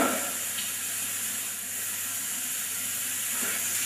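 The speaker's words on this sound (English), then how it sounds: "you can hear the mustard seeds popping" Brown and black mustard seeds frying in hot oil give a steady, close hiss and sizzle with faint scattered pops throughout, no voices.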